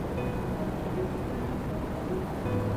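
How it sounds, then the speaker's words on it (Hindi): Heavy rain pours steadily on a quiet walk home, a dense, even hiss that holds at the same level from start to finish with no other sounds. "सिर्फ बारिश की तेज बूंदी की आहट आ रही थी।"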